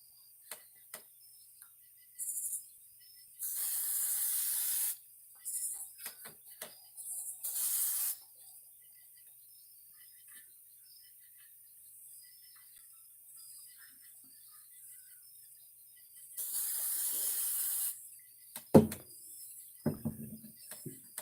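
Aircraft paint remover sprayed onto car primer on a budget hot rod project, heard as several loud hissing spray bursts of a few seconds each, separated by quiet gaps, with a few clatters near the end.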